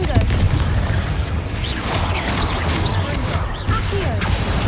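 A Confringo blasting spell going off in Hogwarts Legacy: booming, crashing impacts and rumbling debris amid busy combat noise, loud and close.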